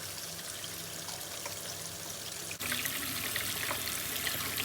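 Hot tap water runs steadily over frozen apple juice in a home kitchen, a constant close rushing stream that gets a little louder partway through, with no talking.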